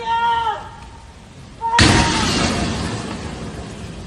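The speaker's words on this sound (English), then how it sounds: "You can hear the explosions ringing in the background." A sudden loud blast strikes from a distance during a terrorist attack, followed by a long rumbling decay; faint tonal sounds and background noise precede it.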